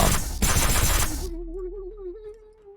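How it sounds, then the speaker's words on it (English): A loud, dense burst of rapid gunfire, like a machine-gun volley, rattles for about a second and a half, then cuts off and gives way to a sustained wavering tone that slowly fades. "you hear gunshots from behind you"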